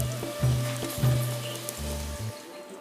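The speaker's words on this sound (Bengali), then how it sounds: "তো আমি একটা একটা কড়াইতে দিয়ে দেব, একটা একটা করে ভেজে নেব।" Potol chop, pointed gourd coated in besan batter, sizzling as it fries in hot oil in a pan, a soft steady crackle with a few faint clunks, close and unaccompanied.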